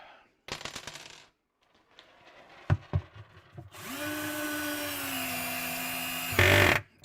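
Power drill driving 2-inch roofing screws into wood to mount casters, heard as brief whirs and clicks followed by a long, steady, close motor whine that ends in a short louder burst.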